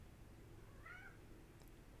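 A cat gives a single short meow, faint and brief, against a quiet low room hum with no talking.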